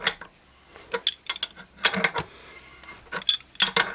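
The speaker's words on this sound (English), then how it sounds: "the longer handle makes it a lot easier to work the M24 nylock nut" A Domino adjustable shifting wrench ratchets and clinks while working an M24 nylock nut, close metallic clicks and scrapes coming in irregular clusters with short gaps between turns.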